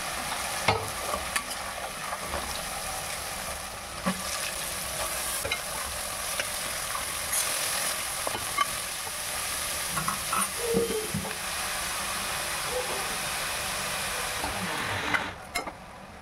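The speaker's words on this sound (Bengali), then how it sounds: "হলুদ দিয়ে দিলাম, জিরের গুঁড়ো, ধনের গুঁড়ো, হলুদ সব দিয়ে ভালোভাবে নাড়াচাড়া করে মশলাটাকে কষিয়ে নেব।" Ground turmeric, cumin and coriander masala frying in a pan while being stirred, giving a steady, continuous sizzle with occasional soft scrapes and clinks of the spoon, close up and with no talk.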